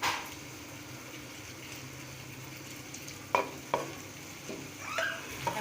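Apple gourd, chopped tomatoes and green chillies cook in a pan with a low, steady sizzle as they are mixed, with a few distinct scrapes and knocks of a spoon against the pan.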